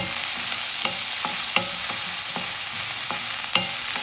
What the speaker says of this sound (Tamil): ஸோ வெங்காயம் கொஞ்சம் வந்துட்டு வதங்கட்டும்